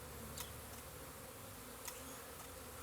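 A swarm of honey bees buzzing steadily as a dense, faint hum, with a couple of brief louder passes from single bees flying close.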